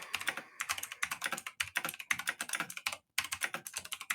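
Rapid bursts of clattering keystrokes on a computer keyboard, close and crisp, broken by brief pauses in an uneven rhythm, without voices.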